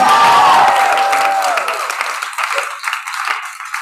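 Loud applause from an open mic audience fades out over a few seconds, leaving scattered claps and crowd noise.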